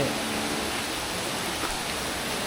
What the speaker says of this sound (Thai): เราก็จะได้ยินเสียงน้ำตกนะ